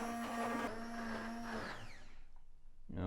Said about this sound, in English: Stick blender in,